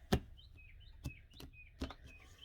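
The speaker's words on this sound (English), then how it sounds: "Got birds chirping in the background." Small birds chirp and tweet faintly in the distance, short high calls repeating irregularly, with several sharp knocks or taps sounding closer in the foreground.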